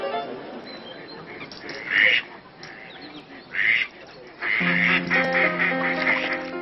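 Ducks quack around a duck hunt at dawn on the Lac de Soustons, with several loud bursts of calling over a steady background, then a longer stretch of continuous chatter near the end.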